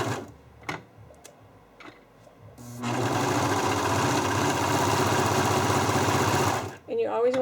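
A Brother 1034D serger stitches through a small piece of material, its steady, loud mechanical whir running for about four seconds after some light handling clicks, then stopping.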